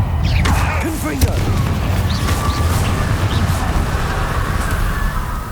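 Explosive booms from the Confringo fire-blast spell in the Hogwarts Legacy video game, a continuous loud rumbling bed with a few sharp bursts and crackles, with a voice speaking over it.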